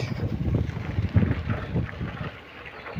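Wind gusts buffet the microphone in low, uneven rumbles that swell and ease over a few seconds, with no voices.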